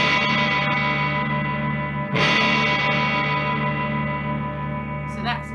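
Amplified stringed instrument struck loudly with a plectrum, sustained ringing notes with a sharp new strum partway through and an amplifier hum underneath.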